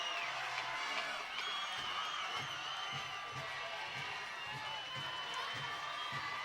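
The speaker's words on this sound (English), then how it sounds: "this Highlander crowd has erupted" A Highlander crowd at a high school football playoff game erupts in whooping cheers, a sustained roar of voices with shouts rising above it, while a rhythmic thumping pulses underneath.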